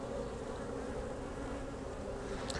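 Honey bees buzz around an open, strong beehive during requeening, a dense continuous close hum with no talk.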